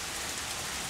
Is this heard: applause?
no